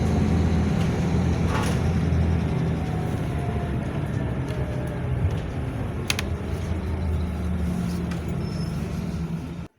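Steady low rumble of a bus cabin as a public bus pulls into the Dover terminus in Tasmania at the end of the southernmost route, engine and road noise continuous and close with a few faint clicks and rattles.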